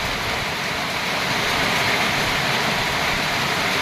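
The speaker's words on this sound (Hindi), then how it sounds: "बहुत तेज बारिश होने लग गई है" Heavy rain pours down in a steady, dense hiss, loud and continuous throughout, with no voices.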